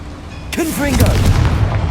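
A Confringo blasting spell fires in the Hogwarts Legacy video game, a heavy booming blast that bursts in suddenly and rumbles on, with a voice shouting over it.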